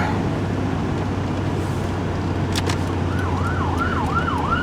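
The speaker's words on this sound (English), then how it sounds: "Ambulance." An ambulance siren wails in rising and falling sweeps over steady, loud road rumble inside a Chevy, growing clearer toward the end as it passes.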